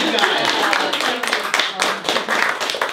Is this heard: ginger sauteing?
no